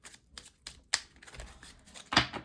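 Tarot cards being shuffled by hand in a quiet room, heard as several short, crisp riffling bursts separated by pauses, the last burst the loudest.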